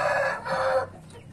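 A rooster, a fighting breed, clucks and crows in two close, loud bursts, each under a second, with no talk over it.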